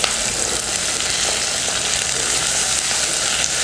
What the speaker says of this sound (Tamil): இப்போ இது எல்லாமே நல்லா வதங்கட்டும்.